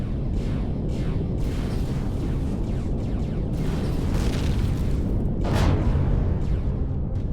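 Missile explosions striking a laser turret in Empyrion Galactic Survival, heard as a continuous rumbling barrage of booms, two heavier blasts standing out near the end over constant engine and weapon noise.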